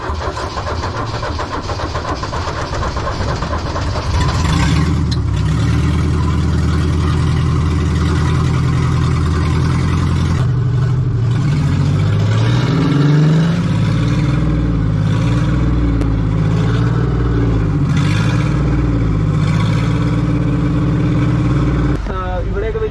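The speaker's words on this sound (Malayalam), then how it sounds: "വണ്ടി നമ്മൾ സ്റ്റാർട്ട് ചെയ്യാനായിട്ട് പോകാം കേട്ടോ" An abandoned 4x4 under restoration cranks and starts, then settles into a loud, rough run with a few surges of revving that continue steadily to the end.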